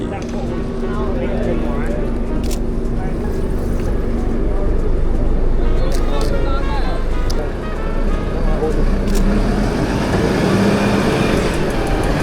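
Car passing along a busy London street during the Christmas lights season, its engine and tyre noise blending into a steady wash of traffic and crowd hubbub, with people talking nearby.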